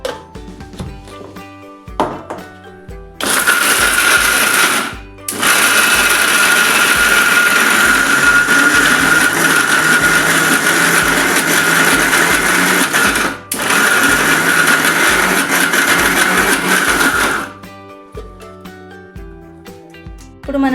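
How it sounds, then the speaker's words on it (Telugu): A kitchen mixer grinder grinds corn kernels with jaggery and cardamom, a loud, close motor whir running in two long bursts separated by a brief pause, with quieter moments before and after. "వేసుకొని మిక్సీ పట్టుకోవాలి."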